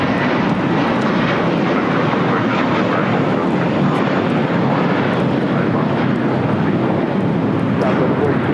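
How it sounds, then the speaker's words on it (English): A JetBlue Airbus A321 takes off, with a loud steady jet engine roar that fills the whole stretch without letting up. "This is JetBlue Airways Flight 100 taking off to Fort Lauderdale on an A321."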